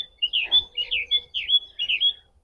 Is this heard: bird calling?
yes